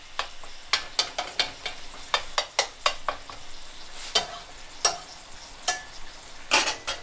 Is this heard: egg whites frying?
yes